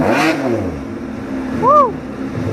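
A Ferrari F12 engine revs with a rising and falling roar, heard from a short distance as a single swelling blip that then fades, with people talking and cheering around it.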